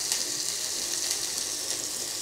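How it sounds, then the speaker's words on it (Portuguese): Sliced onion sizzles in a pan alongside browned calabresa sausage as a bean sauté begins, a close, steady hiss of frying without voices. "A calabresa já dourou, vou colocar a cebola"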